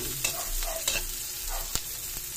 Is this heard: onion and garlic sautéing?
yes